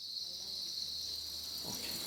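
Dense, high-pitched chirping of crickets on a Thai cricket farm, a steady continuous buzzing drone with no pauses, fairly quiet and without voices.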